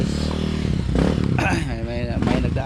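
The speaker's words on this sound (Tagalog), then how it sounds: "may nagdaan na motor." A motorcycle passes along a street, its engine buzzing and swelling close by before fading, under loud background noise with some talking.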